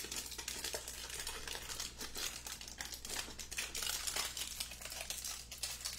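Aluminum foil crinkles and crackles as it is folded over a hole cut in a cereal box, a close, continuous rustling with no talking.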